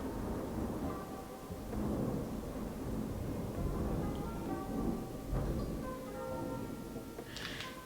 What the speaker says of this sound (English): Y'all, that was thunder.